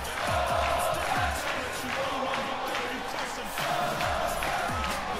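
Dense arena crowd in the WWE 2K20 wrestling video game, a continuous loud roar of chanting and cheering with rhythmic accents, steady throughout without a break.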